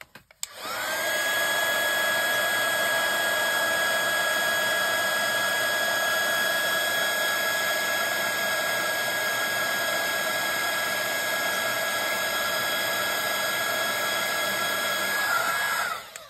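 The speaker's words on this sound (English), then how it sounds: "And we'll just heat set this." A craft heat tool heat-sets embossing powder, blowing a loud, steady whine and rushing airflow for about fifteen seconds after a brief click on, close and unbroken, with no talk.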